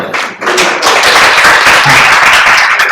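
An audience applauds at the close of a time-management seminar session: dense, steady clapping fills the whole stretch, loud and close, with a brief dip near the start.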